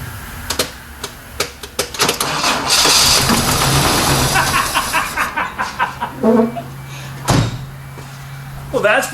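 Toyota Corona wagon engine cranking with rapid clicking turnover, catching into a rough run and then dropping back into a sputter, with a door clunk and other clanks nearby and voices in the background.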